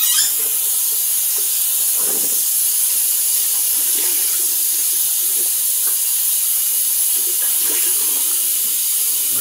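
Water runs steadily from a tap in a constant bright hiss, close and uninterrupted, with faint clinks underneath, rinsing off shaving soap.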